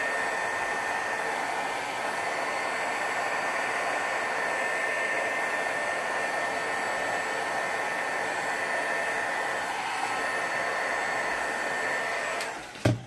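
A hair dryer blows steadily on a paper feather craft piece, a constant close-up whooshing hiss with an even pitch, ending with a brief knock as it is switched off.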